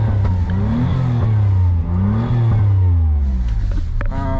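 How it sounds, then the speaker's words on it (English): A kei car engine with an exhaust leak revs repeatedly, rising and falling in pitch with a raspy, rough exhaust edge, close by and loud, with no talking. "Has an exhaust leak."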